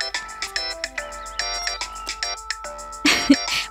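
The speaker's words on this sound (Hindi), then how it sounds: "माई भैया का फोन है।" A mobile phone's ringtone plays a bright, repeating electronic melody of quick beeping notes, loud and close, with a brief rustle of handling near the end.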